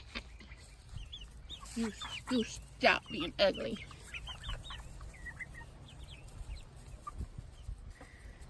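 Chickens cluck and squawk in a farmyard with ducks nearby, a scatter of close, irregular calls rising and falling, while a person talks over them.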